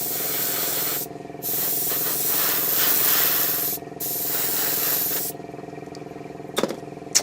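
An airbrush spraying the first coat of paint onto a 1/12 scale Bandai Boba Fett model: a loud, steady hiss in long bursts with brief pauses, close up, ending with quieter handling noises.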